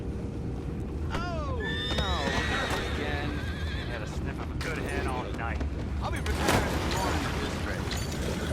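Horses whinnying in Red Dead Redemption 2, several loud rising and falling neighs close by, with hoof clatter and outdoor game ambience and a voice speaking in between.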